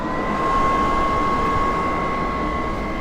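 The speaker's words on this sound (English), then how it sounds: "if you listen, we've installed a huge fan up in that engine compartment" A large cooling fan installed in the engine compartment of a Chinese mini excavator runs with a loud, steady whooshing hum and a constant tone, unchanging throughout with no talk.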